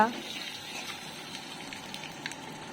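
Nigella seeds, dry red chillies and bay leaf tempering in hot mustard oil in a pan, giving a soft, steady sizzle with small crackling pops, fairly quiet, and no voices over it.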